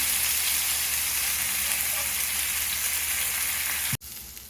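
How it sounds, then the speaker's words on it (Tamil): Fish, a rock fish, sizzles steadily in a frying pan, a loud, continuous crackle of hot oil that cuts off abruptly near the end. "ஒவ்வொரு மீனாக பரட்டி விட்டுட்டே இருக்கணும்"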